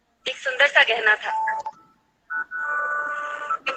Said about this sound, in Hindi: पता नहीं क्यों किसका फोन चालू है बेटा?